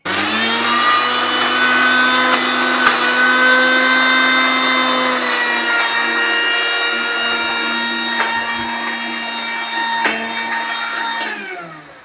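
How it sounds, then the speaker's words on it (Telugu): A mixer grinder blends watermelon for ice cream, running with a loud, steady whirring motor drone for about twelve seconds before spinning down at the end. "ఇప్పుడు కొద్దిగా మిక్సీ చేసేస్తే చాలు."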